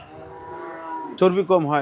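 At Gabtoli cattle market, a crossbred cow being sold for Qurbani lets out a loud, close moo, first a long low drone and then a stronger two-part bellow.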